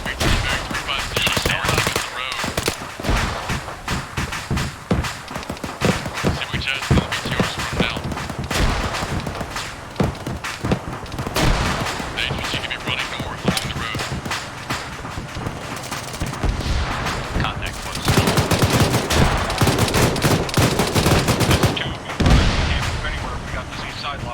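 Heavy sustained gunfire and rapid automatic bursts aimed at a Shilka anti-aircraft vehicle in the military game ArmA 3, loud and continuous with booming impacts throughout, while voices talk over the shooting.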